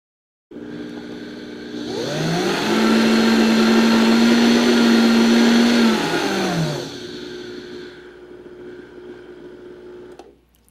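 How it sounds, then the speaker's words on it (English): Blender grinding dehydrated chickpeas into flour: a loud, steady motor whine and rough grinding that ramps up, holds high for several seconds, then winds down while still running, heard alone with no talk. "Then I just put it in my blender."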